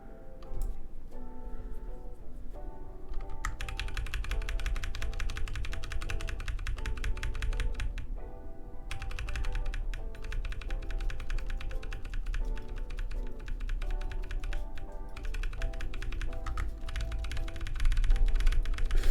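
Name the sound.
computer keyboard typing, spamming the undo key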